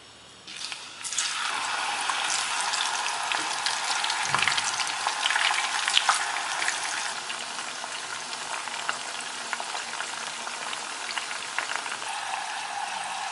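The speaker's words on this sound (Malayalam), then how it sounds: "ബാക്കിയും കൂടെ ഇതുപോലെ വറുത്തെടുക്കാം." Taro root chips deep fry in a pan of hot oil for a Kerala Vishu snack, a loud, dense, continuous bubbling hiss that swells in after a quiet start and holds steady with faint crackles.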